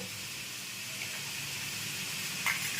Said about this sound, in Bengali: এবার আমি এটাকে নাড়াতে থাকবো এই পেঁয়াজটা আমার সামান্য নাড়াতে থাকবো